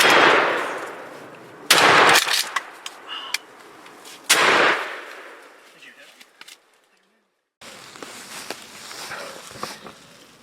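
Shotgun fired at a turkey during Georgia turkey season, one sharp loud blast followed by a second crack, then rustling and footsteps outdoors.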